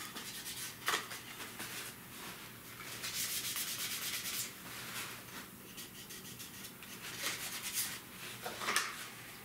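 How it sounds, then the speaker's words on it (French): Paper for a scrapbooking album page is folded along its score marks, making faint, close rustling and brisk creasing swipes that come in a few separate bursts in a quiet room. "Alors, on plie tout ça sur nos marques."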